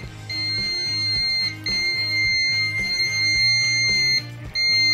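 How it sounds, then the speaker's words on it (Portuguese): Uni-T UT204+ digital clamp meter gives a loud, sustained electronic beep tone, held for several seconds with brief breaks and steady pitch. "Aqui é o bip."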